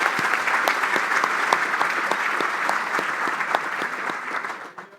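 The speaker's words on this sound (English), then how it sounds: "If I could have a round of applause for them." Luncheon audience applauding sponsors, a dense steady clapping from a large room that holds for several seconds and tapers off at the end, with no talk over it.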